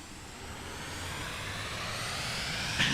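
A steady roar of an aircraft engine at full throttle in Microsoft Flight Simulator 2024, holding loud and even with a slight rise toward the end.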